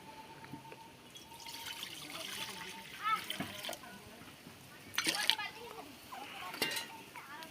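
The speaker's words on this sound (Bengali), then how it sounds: "কড়াটা উনানে বসিয়ে দিচ্ছি। দিচ্ছি জল" Water trickling and splashing into a wok sitting on a stove burner, with soft metallic clinks of the pan, fairly quiet and close, under occasional speech.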